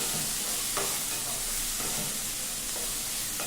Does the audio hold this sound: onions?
yes